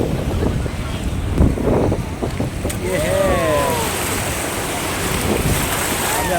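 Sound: tour boat on the sea near Krabi with waves

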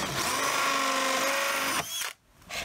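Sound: power drill cutting a notch in a plastic 5 gallon bucket

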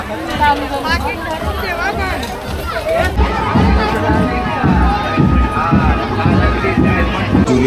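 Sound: crowded market bustle

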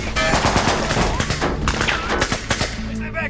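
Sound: gunfire in a Russian war movie

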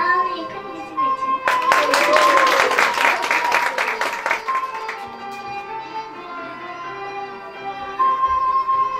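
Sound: audience applause

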